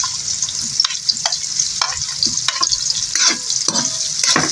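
Onion, chili and tomato are stirred in a hot pan for chicken intestine adobo, with a constant close sizzle broken by repeated scraping strokes of a spoon against the pan, and nobody speaking.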